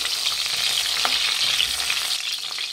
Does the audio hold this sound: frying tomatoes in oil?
yes